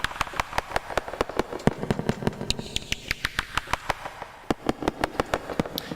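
A gunshot-like Sylenth1 synth preset played in a rapid run of sharp, percussive bangs, dozens of crisp hits in quick succession with a crackling, firework-like character.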